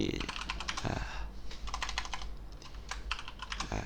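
Fast, steady keystrokes clatter on a computer keyboard in close rapid bursts, with a person talking at times over the typing.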